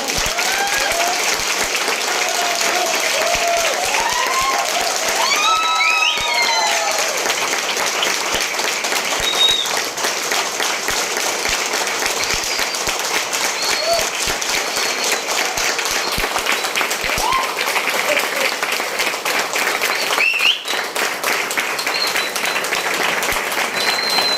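A large crowd at an NTC Sharma Brothers sharing event in Nalasopara applauds loudly and continuously for over twenty seconds, with dense, steady clapping and occasional shouts and whistles.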